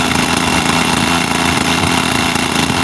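SK .50 glow engine with its stock muffler, mounted on a Global Hobbies Birdie 40 model airplane, running at a steady, loud, buzzing drone throughout, with no other sounds over it.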